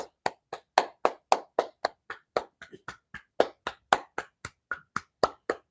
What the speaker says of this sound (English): Now we're going to clap.